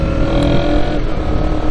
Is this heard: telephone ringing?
no